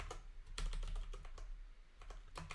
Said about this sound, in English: go ahead and type in these values